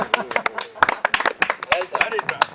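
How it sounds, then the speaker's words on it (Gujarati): Audience at a club prize-giving event in Jamnagar clapping, a brisk burst of close, uneven handclaps with voices talking underneath. "તાળીઓ."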